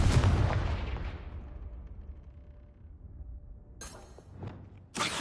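A blast from the Confringo curse in Hogwarts Legacy erupts loudly at the start and rumbles away over a couple of seconds, followed by further sharp bursts near the end.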